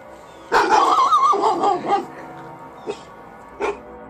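A dog gives a loud burst of yips and whimpering whines lasting over a second, followed by two short, fainter yelps after pauses, with no talking.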